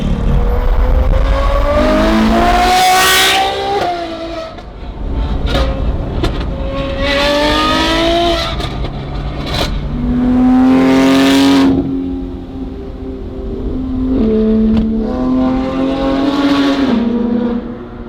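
A tuned supercar engine with no exhaust fitted revs hard over and over, each loud, raw rising blast climbing in pitch and then falling away, with no voices over it.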